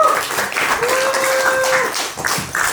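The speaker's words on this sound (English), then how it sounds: "Round of applause for the science department." A crowd applauds for a school science department, sustained clapping with some voices and a brief whistle-like tone mixed in, fairly loud and continuous.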